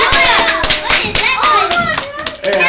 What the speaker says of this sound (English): Big round of applause for Julia